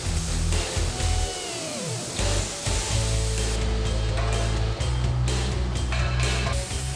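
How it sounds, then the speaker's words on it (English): A CNC beam coping machine torch-cuts steel, producing a steady, loud, broadband hiss and roar with low rumbling underneath that continues throughout. "The operator can choose to lead out to ensure that the cut is not affected by the torch piercing."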